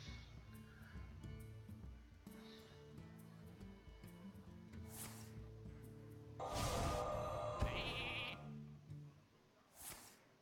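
Sheep bleating in a Hearthstone-style card game, a few short cries over quiet game music and interface chimes, with a brighter burst of spell effects partway through.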